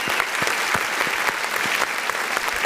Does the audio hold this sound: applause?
yes